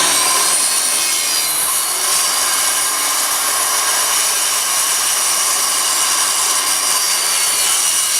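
A hand saw draws through a wood panel in a loud, steady, close-up rasp that continues unbroken throughout.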